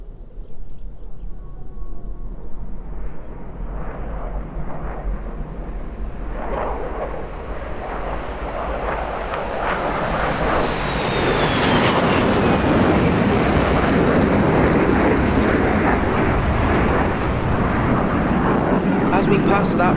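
Su-27 fighter jet engines in DCS building to full afterburner on the takeoff roll down a runway, a broad roar that swells louder and rises in pitch around halfway through, with someone talking over it throughout.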